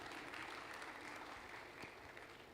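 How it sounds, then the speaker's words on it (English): An audience at a startup and venture summit in a forum hall applauds a founder, an even wash of clapping that is fairly distant and quiet, holding steady from start to finish. "And applause."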